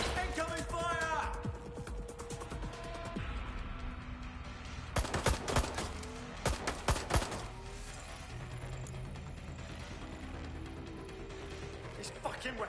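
Rapid bursts of video game gunfire crackle in tight clusters mid-clip, with sporadic shots before and after, partly under voices and game sounds.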